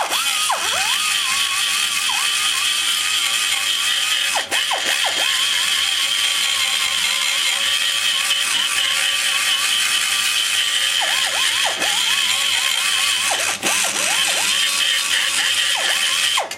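High-speed rough cutter grinding an aluminum Chevy intake manifold, a loud continuous whining drone with repeated dips in pitch as the bit bites into the metal, close up and without speech.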